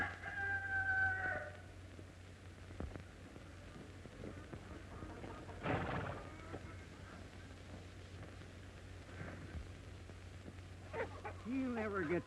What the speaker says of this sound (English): Help me find that rooster.